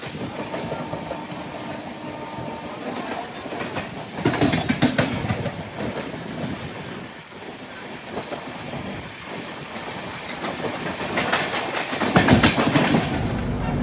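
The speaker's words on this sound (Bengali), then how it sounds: "ট্রেন ঢুকছে মেচেদা স্টেশন।" A train, the Amrit Express, rolls into Mecheda station on a crowded platform, with steady rumbling and rhythmic wheel clatter throughout, swelling louder around the middle and again near the end.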